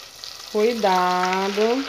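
Cassava and cheese fritters fry in very hot oil with a steady background sizzle, while a voice speaks a short word over it.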